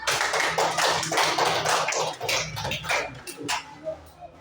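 Applause from a classroom audience after a group presentation, a burst of scattered hand claps that fades into a few sporadic claps, with a little talk underneath.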